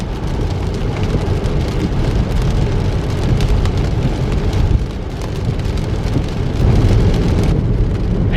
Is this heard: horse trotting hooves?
no